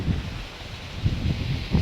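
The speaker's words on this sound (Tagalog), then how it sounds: "Napakalakas pa ng hangin." Strong wind gusting at an open fishing spot, a steady low roaring buffet with rustling surges rising and falling throughout, no voices.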